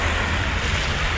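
Sea waves wash onto the shore at high tide, a steady broadband surf roar with some wind noise on the microphone and no voices.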